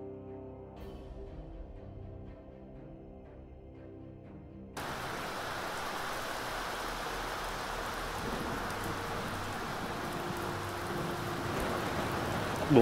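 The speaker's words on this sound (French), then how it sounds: "cette fois-ci, nous sommes bien sous la pluie" Steady rain pours down in a U-boat video game, starting abruptly after a few seconds of quiet and then holding as a dense, even hiss.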